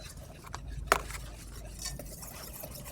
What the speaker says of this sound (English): we're gonna quickly stir this with our whisk until all the lumps are gone